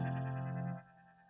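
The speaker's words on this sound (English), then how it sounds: "This is what a low cut is doing." A heavily exaggerated low cut filter strips the bass from a sustained, effects-processed synth tone, leaving it thin and hollow after the first moment; no voices.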